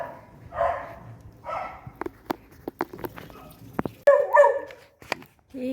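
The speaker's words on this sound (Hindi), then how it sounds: "कहीं गैया मैया, कहीं डॉगी भौंक रहे हैं।" Several dogs bark in short bursts along a narrow market lane beside a shop, with footsteps and street bustle around them; the barks come at a moderate distance, alternating with quieter moments.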